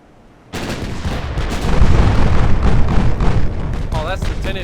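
Broadband rumbling salvo of 10-inch naval guns from a battleship in Ultimate Admiral Dreadnoughts, starting abruptly and sustaining a loud, rolling boom that swells and lingers, with faint whistling tones near the end.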